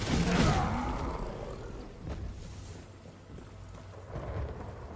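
Thunder from a storm in the video game No Rest for the Wicked opens with a heavy rolling rumble, then softer rumbles follow over a steady hiss of falling rain.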